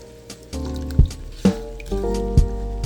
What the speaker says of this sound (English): This is how I wash quinoa.